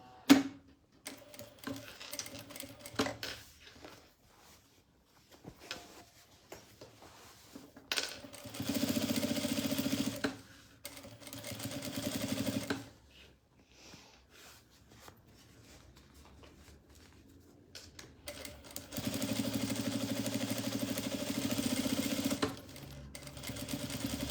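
A domestic or industrial sewing machine topstitches a fabric lingerie pouch, running in two long buzzing bursts of rapid needle strokes separated by quieter handling of the cloth, with no talking.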